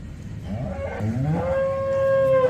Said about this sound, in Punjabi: ਇਹ ਆਪਣੇ ਏਰੀਆ ਦੀ ਗਾਂ ਹੈ